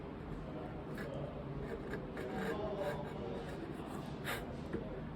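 A chisel pares wood on a halving dovetail joint in short scraping strokes, close and fairly quiet, with a few sharper rasps among the steady rubbing.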